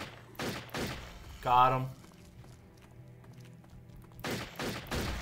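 Shotgun blasts from the video game Turok 3: a few sharp, loud broadband shots at the start and again near the end, with someone speaking briefly in between.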